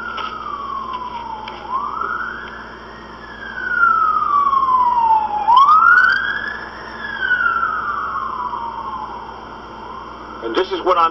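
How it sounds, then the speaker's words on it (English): An emergency vehicle siren wails past on a street, rising and falling in long sweeping tones that swell louder as it nears, with a brief burst of other noise at the end. "These emergency vehicles, they go at very high rates of speed to try to save people's lives."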